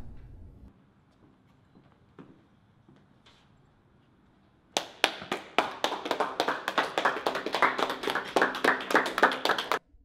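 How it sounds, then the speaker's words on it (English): A crowd bursts into steady applause partway through, many hands clapping loudly and continuously after a quiet stretch. "They really love clapping for me."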